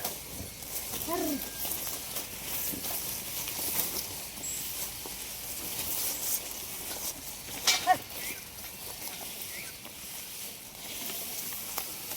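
Goats at a farm shed are fed fodder, with a continuous rustling and munching of dry feed nearby, shuffling hooves and faint animal sounds, plus a few sharper knocks partway through.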